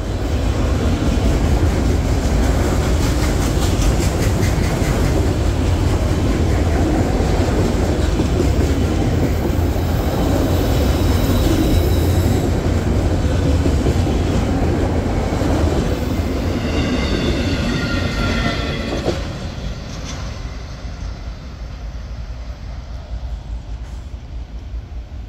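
A Norfolk Southern freight train rolls past on the D&H line, a loud continuous rumble of wheels and clattering cars that fades slightly near the end as the last cars pass.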